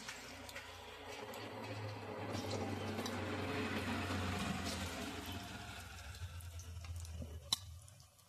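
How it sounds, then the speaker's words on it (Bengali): Cauliflower pakoras deep-frying in mustard oil give a steady, dense bubbling sizzle that swells through the middle and eases off, with a sharp click near the end and no talking. "বাকি পকোড়াগুলো আমি একইভাবে ভেজে নিচ্ছি। আর বন্ধুরা, এখানে আমি সর্ষের তেল দিয়ে ভাজছি"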